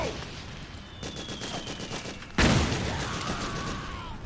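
Battlefield gunfire in Metal Gear Solid 4, run on the RPCS3 emulator: a steady rattle of rapid shots, then a loud, sudden burst that keeps up a dense roar, with a high whine sweeping across.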